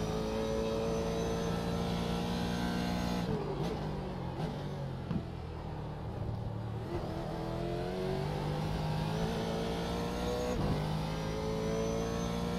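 Ferrari race car engine in the iRacing sim, loud and continuous, revving up through gears with brief dips and shifts, steady high-pitched whine throughout.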